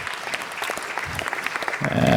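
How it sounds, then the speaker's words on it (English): Applause for youth baseball coaches at a Los Angeles city council meeting: a room full of people clapping steadily for about two seconds, with a voice briefly audible near the end. "Give them a big round of applause."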